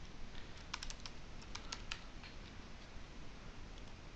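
Keys tapped on a computer keyboard while entering a name in a spreadsheet, a short burst of a handful of light clicks in the first two seconds, then quiet room tone.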